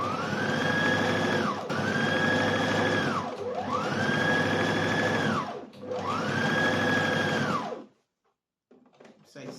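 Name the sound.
sewing machine stitching a gathering line on fabric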